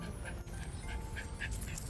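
A mixed-breed dog on a leash yelps and whimpers during training, with a few faint, short yips over low background noise, some distance away.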